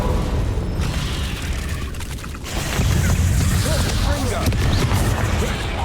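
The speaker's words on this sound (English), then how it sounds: "Confringo!" Confringo spell blasts in the video game Hogwarts Legacy: heavy booming explosions over a dense roaring wash, with a brief dip before the rumble swells louder again and holds.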